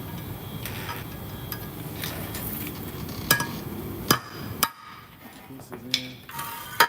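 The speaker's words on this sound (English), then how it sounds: "Let me get my hammer for this part." Several sharp metallic hammer taps ring out at irregular intervals as pieces are tapped into place, some loud and close, over a steady background hum with faint clinks between strikes.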